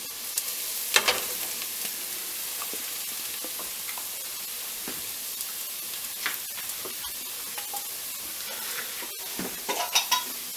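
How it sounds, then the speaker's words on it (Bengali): Garlic frying in a pan over medium heat while a lamb steak dinner is prepared, giving a steady close sizzle with occasional stirring clicks and scrapes and no voices. "আমি গার্লিকটা একটু ভেজে নিচ্ছি"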